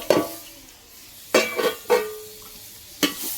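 A spatula stirs and scrapes through onion and tomato sautéing in a pan for chicken curry over a wood-fired stove, giving four or five sharp clacks with a soft sizzle between them.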